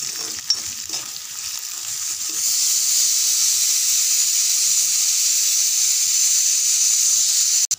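Small onions sizzling as they fry to golden brown in a pan for a hotel-style mutton gravy, a loud, steady hiss and crackle that swells after a quieter start and holds close and constant.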